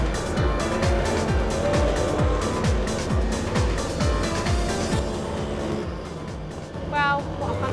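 Go-karts driven by young kids race on an outdoor track, a fast series of loud engine passes with rising and falling pitch, one after another, ending with a brief squeal.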